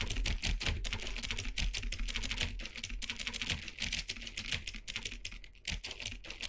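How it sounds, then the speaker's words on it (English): Rapid, hard clicking on a computer while playing The Stanley Parable, a dense run of sharp close clicks at an uneven fast rhythm over several seconds, with no talking. "I'm clicking really hard. You can probably hear it in the mic."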